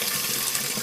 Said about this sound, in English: I hope you can hear me with that water running